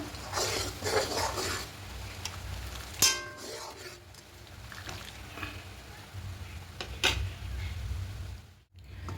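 A spoon stirs bay leaf and cardamom into warming milk in a pot for a Bengali malai bora sweet. Soft scraping and swishing are broken by a few sharp metallic clinks against the pot, with a voice speaking over it.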